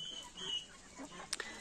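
Faint chicken clucking, a couple of soft clucks and a short chirp against quiet outdoor background.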